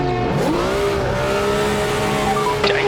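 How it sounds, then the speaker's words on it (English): In a racing video game, a BMW M1 Procar's engine holds a loud, steady howl on the Daytona oval after a gearbox failure leaves it stuck in neutral. A brief squeal rises near the end. "Oh, the gears have gone. Technical problems."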